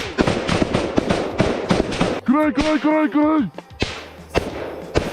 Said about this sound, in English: We see the skillful work of the Ukrainian military firing with machine guns and providing covering fire for each other.